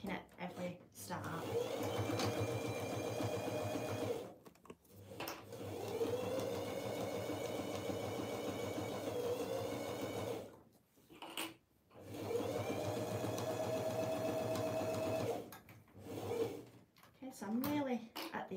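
Sewing machine stitching fabric binding in the ditch with back tacking, running in long steady bursts separated by brief stops, with people talking over it.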